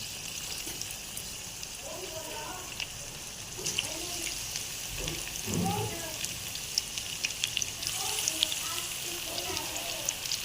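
Macaroni pakoras fry in hot oil in a frying pan over low heat, giving a steady close sizzle with bubbling crackles, and a voice speaks briefly underneath.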